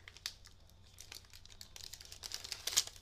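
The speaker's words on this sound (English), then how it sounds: "I'm just going to peel this tape back" Sticky tape peeled back off a handmade paper card, giving soft crinkling and tearing rustles that build to a sharper crackle near the end, close and fairly quiet with no talk.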